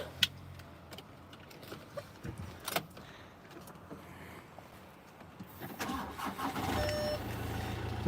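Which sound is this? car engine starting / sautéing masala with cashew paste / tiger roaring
car engine starting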